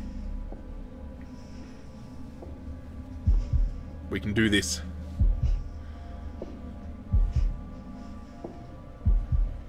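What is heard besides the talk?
heartbeat from the video game The Dark Pictures: The Devil in Me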